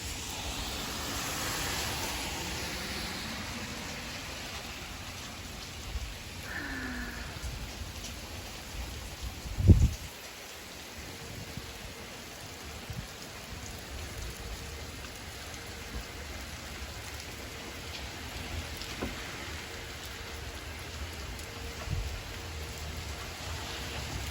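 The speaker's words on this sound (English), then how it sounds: "It's raining, yeah." Rain falls steadily on a rainy afternoon, a continuous hiss with soft patter throughout and one brief louder thump midway, with no voices.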